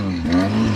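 A car engine revving during restoration work on a NOVA with a finished floor, chassis rail and cross beam, a short steady throaty roar that swells briefly, with a voice faintly present.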